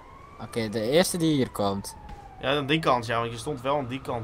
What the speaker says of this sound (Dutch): Ah, dat is een ambulance.